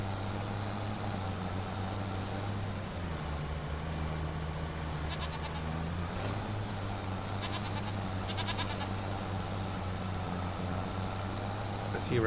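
Goats bleat a few times in Farming Simulator 25 over a constant low engine-like hum, the bleats short and somewhat distant in a steady electronic soundscape.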